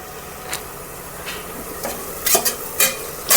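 Soft sizzle of chopped green chillies dropped into browned onions frying in a pan, with a few sharper stirring scrapes and crackles near the end.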